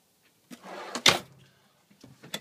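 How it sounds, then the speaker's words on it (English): Drawers in the kitchen of a 2013 Palomino S-17 camper slide and knock shut, a short rolling rasp followed by a sharp close, then a couple of softer clunks, near and quiet. "Some drawers here."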